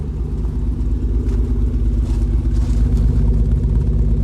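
A car engine idles roughly with a misfire after a recharged battery, giving a steady low, uneven chugging with a loping pulse throughout, close and fairly loud, no voices.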